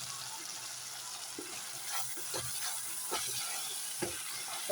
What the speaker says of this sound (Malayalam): ആ ചിക്കൻ വറുത്ത എണ്ണയിലോട്ട് തന്നെ നമുക്ക് സവാള ഇടാം. സവാള നല്ലോണം വഴറ്റിയെടുക്കണം.